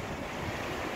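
Sea surf rolling steadily right in front of a seaside bathroom in Santo Domingo, a continuous broad wash of waves with wind noise and no talk.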